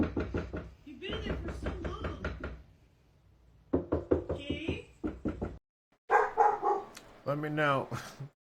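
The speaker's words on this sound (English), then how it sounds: "My dog's barking." A dog barks in a few sharp, fairly close bursts between stretches of a person talking, with knocking-like thumps mixed in.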